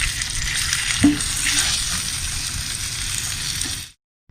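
A tomahawk steak sears in a hot pan with a steady, bright sizzle and a brief clank partway through as it is flipped, staying loud and even before cutting off abruptly.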